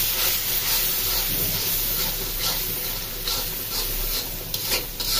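Ground spices, including chilli powder and turmeric, are stirred and fried in a kadai, giving a steady sizzle and hiss with scraping stir strokes. It is close and fairly loud and carries on without a break, with no talking.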